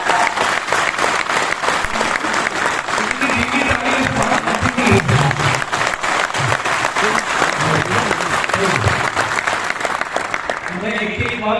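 An audience at a motivational seminar in Bhilwara keeps up loud, sustained applause for over ten seconds, a dense wash of clapping with faint voices beneath.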